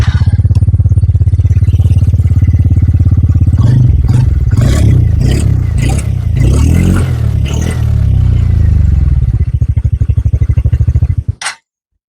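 A TVS Ntorq 125 Black Edition scooter idles on its centre stand, its engine and exhaust giving a loud, close, steady putter. Several sharp throttle blips and some clatter follow before the engine cuts off abruptly near the end.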